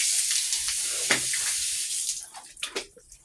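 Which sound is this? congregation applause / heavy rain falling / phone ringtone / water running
water running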